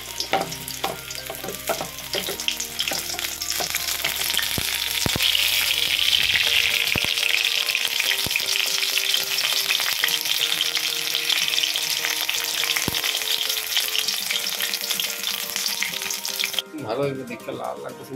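Food frying in a pan, a steady loud sizzle with scraping stir strokes and clattering, plus faint background sounds and a brief voice at the close.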